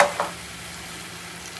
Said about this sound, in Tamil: இப்போ இந்த தக்காளியை பேஸ்ட்டை போடுறேன்